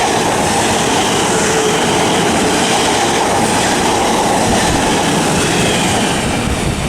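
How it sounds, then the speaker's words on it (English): A South Western Railway class 450 electric train, an Alton to London Waterloo service, passes through Weybridge station on the South Western Main Line with a loud, steady, close roar of wheels and rushing air throughout, no voices. "It's also arriving, or passing through now I should say. It's a South Western Railway service from Alton to London Waterloo"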